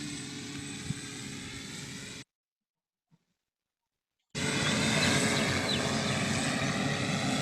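A drone's steady, buzzing propeller hum drones continuously, cuts to silence for about two seconds, then resumes slightly louder and closer.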